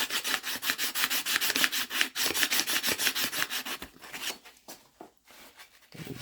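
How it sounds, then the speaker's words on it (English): Very fine sandpaper rubbing corrosion off a bicycle frame, rapid rhythmic back-and-forth rasping strokes, close and steady, slowing into a few sparser scrapes near the end. "Just a very fine sandpaper."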